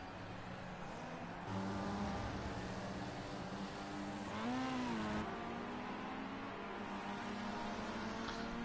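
Touring race cars leave the pits at Brands Hatch Indy in a racing video game, giving a muffled, steady engine drone with faint rising and falling revs, moderately distant.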